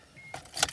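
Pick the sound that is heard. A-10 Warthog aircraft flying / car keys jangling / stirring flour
car keys jangling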